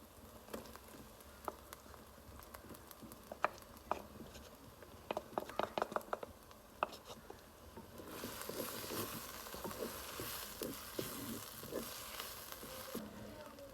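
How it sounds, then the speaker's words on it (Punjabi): Garlic and ginger fry in a pan, giving a soft sizzle with scattered stirring taps and scrapes that swells into a fuller, hissing fry partway through, all faint and without talk. "ਇੱਥੇ ਹੁਣ ਥੂਮ ਤੇ ਅਦਰਕ ਦੀ ਵੀ ਬੁਨਾਈ ਕਰਦੇ ਹਾਂ"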